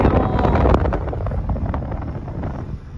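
Strong wind buffets the microphone in low, rumbling gusts, loud and close, easing a little after the first second.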